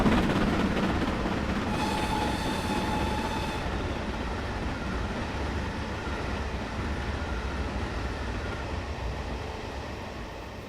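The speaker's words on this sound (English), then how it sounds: "rolled by with a passenger train" A passenger train rumbles past steadily with a continuous broadband roar, a brief tonal squeal partway through, and the noise fading gradually toward the end.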